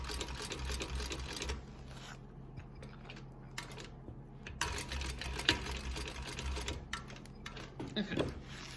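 A sewing machine stitches a quilt project, running in a steady rapid mechanical whir, pausing briefly, then starting again in short runs and a longer continuous stretch, close and clear with faint talk.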